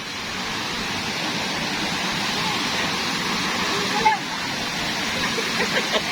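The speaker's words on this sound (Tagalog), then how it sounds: "Ayan ang Balagbag Falls." Balagbag Falls, a waterfall in Real, Quezon, roars as a steady, loud, broadband rush of falling water close by, with a few small splashes.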